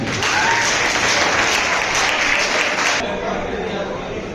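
Applause from an audience at a school project fair ceremony, a loud, sustained round of many hands clapping close by that thins slightly toward the end, with some voices mixed in.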